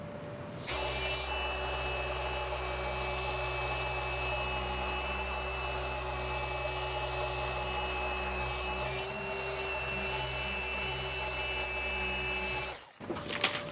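A machine polisher spinning a microfiber disc with Gtechniq heavy cut compound on car paint makes a steady, close whirring drone for about twelve seconds, then winds down.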